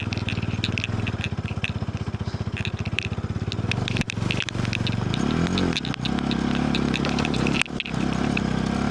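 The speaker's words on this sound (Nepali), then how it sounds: "बाइकहरू पड्काउनु पाइँदैन क्या" A motorcycle engine runs steadily and loudly up close in Lo Manthang, Mustang, Nepal, its low throbbing rising briefly in pitch as it revs, with scraping and rattling noises over it.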